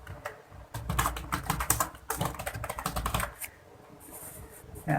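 A computer keyboard clatters with quick, close, irregular keystrokes as a file name is typed, with a short pause near the end.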